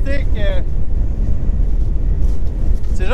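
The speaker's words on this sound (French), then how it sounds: "il y a vraiment beaucoup de vent en ce moment" Strong wind buffets the microphone out on the ice during a tip-up walleye fishing trip, a steady loud low rumble throughout, with someone briefly speaking at the start and end.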